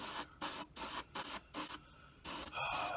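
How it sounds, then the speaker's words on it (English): Spray can of acrylic paint spraying red onto a white primed surface, several loud close hissing bursts in a steady on-off rhythm, alone without talk. "spraying red onto white"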